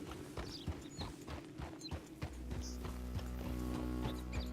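Steady clip-clop of horse hooves in Red Dead Redemption 2 on PS4 Pro, in a quick trotting rhythm, fairly close, over a low mechanical hum, with no talking.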